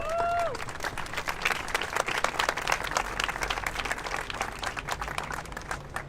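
Audience applause and some cheering for a woman named Carola at a Brussels gathering against the criminalisation of solidarity with refugees, steady and fairly full across the whole stretch, with brief voices mixed in at the start.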